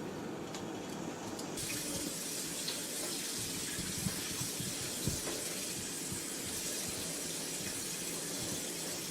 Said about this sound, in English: Now we're going to put the noodles in cold running water.